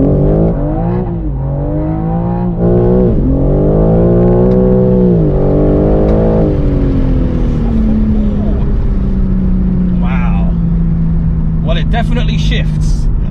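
BMW G80 M3 Competition accelerating hard from a standstill in a 0 to 62 test, the engine revving up in rising sweeps with quick gear shifts, then settling into a steady drone with a few brief clicks near the end.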